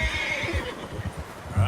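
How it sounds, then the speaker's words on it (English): Horse neighing in the video game Red Dead Redemption 2, a short, fairly close whinny with soft hoof clip-clop underneath. "How's that new horse?"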